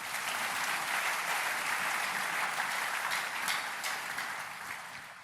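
A church congregation applauding: dense, steady clapping from many people filling the room, sustained at even loudness and easing slightly toward the end.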